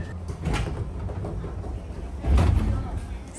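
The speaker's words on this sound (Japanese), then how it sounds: "さあ、列車の扉が開きました。" Sliding doors of a JR West commuter train opening at Shin-Imamiya station in Osaka, a short rumbling slide with a heavier thump near the end, heard over station and platform background noise.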